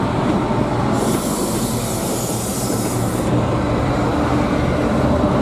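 A Chiltern Railways train rolls past close by, loud and continuous, with rumbling wheels and a high metallic squeal in the middle.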